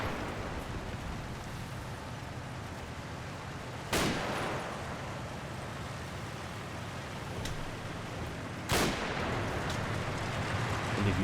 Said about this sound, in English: That's some woeful shooting off our Tommies here.